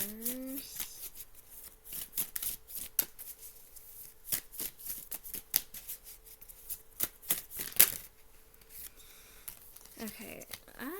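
Tarot cards being shuffled by hand: a dense, continuous run of rapid riffling flicks and papery slaps, close and fairly loud, with a brief voice at the start and end.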